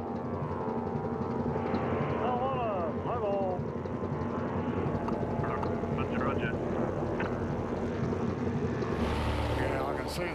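A tuna spotter plane drones steadily overhead above the open sea, a continuous engine and propeller hum that fills the scene throughout, with faint voices briefly audible beneath it.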